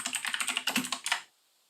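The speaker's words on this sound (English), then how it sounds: "Mechanical keyboard, what can I say?" Rapid typing on a mechanical keyboard, a close, crisp burst of clacking keystrokes lasting about a second before stopping into silence.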